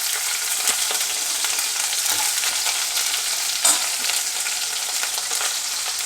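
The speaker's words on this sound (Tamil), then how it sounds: "இது வந்து கொத்தவரங்காய் தாளிப்பு" Cluster beans and onion sizzle in a hot pan as a tempering, with a dense, bright, close frying hiss throughout and occasional stirring clicks. No one speaks.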